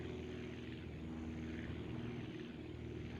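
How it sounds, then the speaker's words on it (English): An aircraft in the building and flying game Aviassembly, loaded down with tools, makes a rough takeoff: a steady, loud engine and propeller drone holds without a break throughout, with a constant tonal hum under a broad rushing noise. "Oh, that's a rough takeoff."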